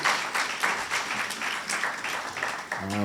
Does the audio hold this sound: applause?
yes